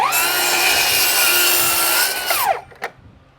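Power saw slicing through wood while framing windows for a barndominium, a loud steady whining cut for over two seconds, then the blade winding down with a brief clunk afterward.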